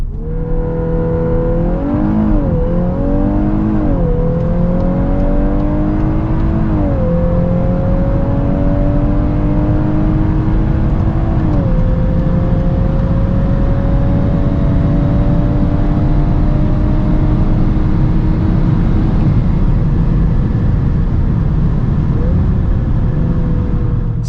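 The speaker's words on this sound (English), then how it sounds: "So let's now see how fast the Golf R goes, 100 to 200." A Volkswagen Golf 8 R with 320 hp accelerates hard from 100 to 200 km/h, its engine droning loud and close with rising pitch sweeps broken by several quick gear changes, continuous and unbroken with no talk.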